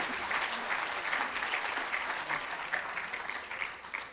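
Steady audience applause at a research conference's opening ceremony, a full room clapping continuously and evenly at close range for a chair's closing remarks, with no voices standing out.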